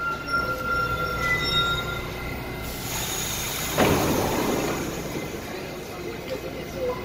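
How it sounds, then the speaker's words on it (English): New York City subway express train rumbling steadily close by, with a surge of louder wheel noise and screech partway through as the cars pass, continuous roar throughout. "So I happen to catch an express train."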